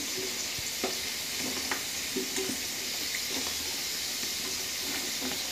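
Balushahi frying in hot oil as the pieces are flipped, a steady close sizzle and hiss with several soft taps and clinks of the utensil against the pan.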